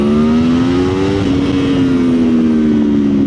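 A 2026 Aprilia Tuono V4 Factory motorcycle engine revs loudly and close in first gear, its pitch climbing as it accelerates hard, then holding a high, raspy drone.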